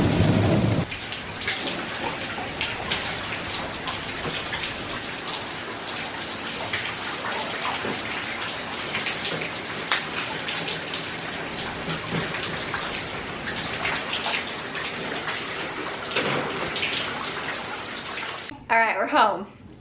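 Heavy rain pours down at a water park, a loud, dense, continuous patter and hiss lasting throughout before cutting off abruptly near the end.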